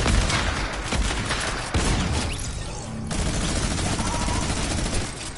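Rapid automatic gunfire in a video game, bursts of sharp shots with booming impacts layered over each other, loud and close, pausing briefly midway before resuming as a sustained barrage.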